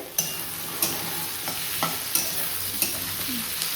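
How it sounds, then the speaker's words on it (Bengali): Tender boiled jackfruit frying in a pan under a soft continuous sizzle, with regular sharp scrapes and taps of a spatula stirring it every second or so. "এটা একটু ভালো মতো ভাজা হয়ে যাক"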